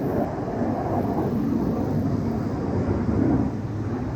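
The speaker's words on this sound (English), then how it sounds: "I would say that's an F-35." An F-35 Lightning fighter jet makes a low flyover during an airshow practice day, a continuous heavy roar that stays loud and close throughout, with no voices.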